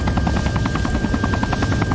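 Helicopter in the military video game Arma 3, a loud, steady rotor chop with rapid rhythmic thumping and a continuous engine whine, close and dominant throughout.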